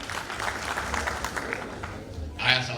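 Crowd applause at a Kenyan political fundraising gathering, a dense patter of clapping heard under a voice, swelling briefly louder at the end.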